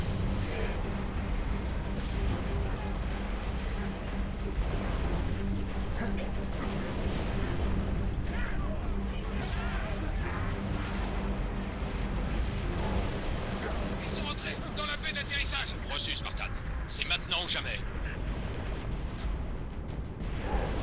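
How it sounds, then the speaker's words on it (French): Continuous gunfire and booming explosions from combat against Covenant forces in the video game Halo: Reach, a dense and loud battle mix with French-speaking players talking over it throughout. "Allez, on tire sur tout ce qui bouge."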